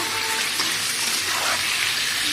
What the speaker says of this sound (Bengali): মুরগির মাংসগুলো আমি সব কটাই দিয়ে দিচ্ছি একসাথেই ভেজে নিয়ে নিচ্ছি